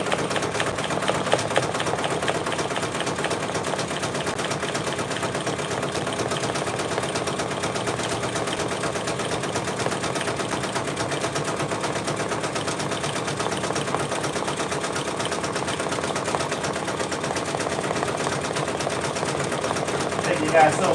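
Brother Persona PRS100 embroidery machine stitching a patch, a steady, fast mechanical whir with rapid needle clatter running unbroken throughout, close and fairly loud.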